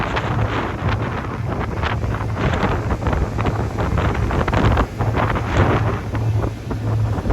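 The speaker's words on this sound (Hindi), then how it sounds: "हवा बहुत भयंकर तेज चल रही है" Strong wind buffets the microphone on a boat heading into deep open sea off Key West, a loud continuous roar with low rumbling gusts and water noise throughout, no talking.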